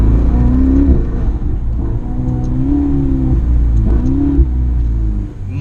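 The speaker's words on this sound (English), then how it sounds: "Did you hear that engine?" A Ferrari 488 Spider's engine revs loudly and close up, a deep throbbing roar that rises and falls through several pulls with no talking.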